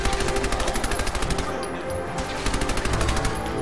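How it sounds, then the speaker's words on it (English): A submachine gun fires in Fallout 4 inside a ruined skyscraper. Loud, rapid automatic bursts rattle off, pause briefly midway and then resume in another fast stream of shots. "let's try this new submachine gun we got"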